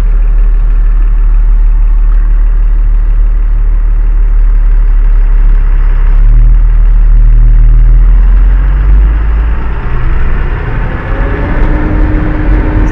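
A HYVA 2518 tipper truck's engine runs at idle close by, a loud, steady, deep rumble with a slight shift in tone partway through and no talk over it.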